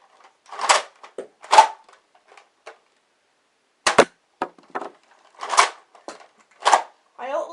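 A Nerf blaster is pumped and fired, giving a run of sharp plastic clacks and snaps spaced a second or more apart. The sounds are close and fairly loud, with quiet gaps between them.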